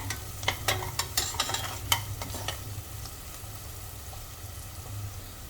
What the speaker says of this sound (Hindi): अदरक को भी भून लेते हैं 1 मिनट के लिए